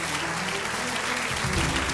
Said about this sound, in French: Vous pouvez les applaudir tous les deux.